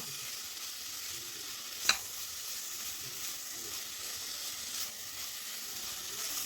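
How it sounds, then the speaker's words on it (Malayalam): Masala with cauliflower and potato is sautéed in an open pan for a vegetable kurma, producing a soft, even sizzle with light stirring and one brief sharp scrape early on, fairly quiet and close, no talking. "ഇതുപോലെ തുറന്ന് തന്നെ നമുക്ക് വഴറ്റി കൊടുക്കാം"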